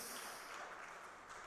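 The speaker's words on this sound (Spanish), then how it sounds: "Demos un fuerte aplauso al Señor." A church congregation claps together in a steady, dense wash of applause that holds evenly from start to finish with no voices over it.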